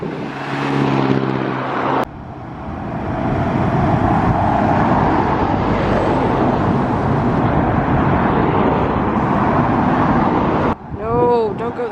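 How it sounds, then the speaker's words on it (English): Vintage Morgan car driving past at a classic vehicle run, a loud, broad engine and road roar that swells and holds steady for most of the pass, with a brief lighter moment early and a short tonal sweep near the end. "Got Morgan driving past now."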